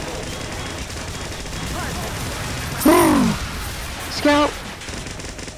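Super Needle Gun fire in Team Fortress 2 Mann vs. Machine: two short bursts of rapid mechanical firing with a falling whine, over a steady wash of game noise, and a brief shout from a player.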